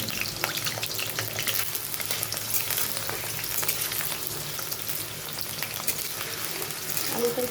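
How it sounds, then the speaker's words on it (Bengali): Potatoes frying in hot oil in a pan for a Bengali shukto dish make a close, continuous crackling sizzle with occasional stirring sounds throughout. "এখন আমি তেলের মধ্যে আলুগুলো দিয়ে দিচ্ছি ভাজার জন্য।"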